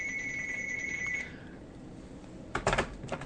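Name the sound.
telephone ringing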